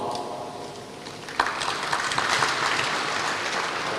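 An audience at a church conference session breaks into applause, starting with a sharp clap and building into steady, moderately loud clapping over a background hum.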